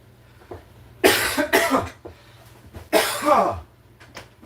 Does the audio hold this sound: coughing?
yes